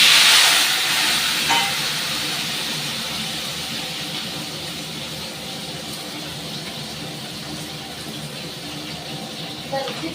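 Boiled potatoes land in hot oil seasoned with panch phoron and sizzle, a loud hiss at first that eases into a steady frying crackle for several seconds.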